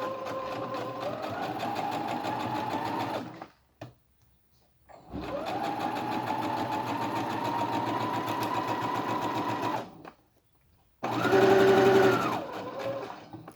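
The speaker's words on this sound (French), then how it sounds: "je vais repiquer sur ma piqûre" A domestic sewing machine stitches over an existing seam line on a zip pouch in three sustained runs, steady whirring motor with rapid needle clatter, pausing briefly between runs while the presser foot is lifted and repositioned.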